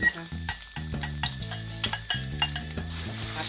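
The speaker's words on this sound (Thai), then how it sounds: "เราก็จะมาผัดใส่น้ำมันนะพี่น้องสักน้อยหนึ่งนะคะ" Pounded herb paste stir-fries in a little oil, with rapid spatula scrapes and clinks against the pan over a soft continuous sizzle, close and busy.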